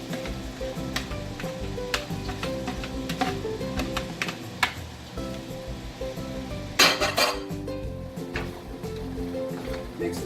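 Cooked beef and mushrooms stirred together in a pan: scraping utensil clicks and clatter over a soft sizzle, close and moderately quiet, with a louder burst of scraping near the end.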